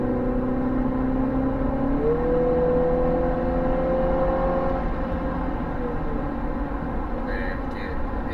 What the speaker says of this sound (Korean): 이렇게 엔진음과 배기음이 조금 같이 들리고요